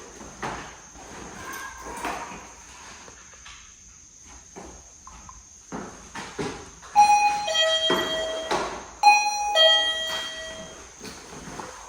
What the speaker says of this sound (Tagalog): Hindi kaya sa pinto na lang natin lagay ang doorbell na yan.